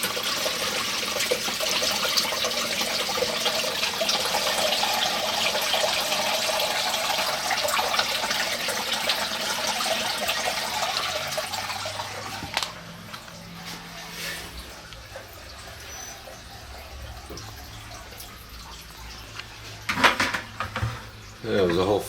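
Five gallons of coolant pour from a Tormach CNC mill's tank into a new tank as a steady, loud rush of water that thins into trickles and faint drips near the end.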